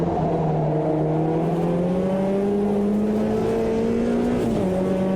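A race car engine in the Automobilista 2 racing game, a loud continuous drone whose pitch climbs steadily through a gear, then dips briefly at a shift before holding on.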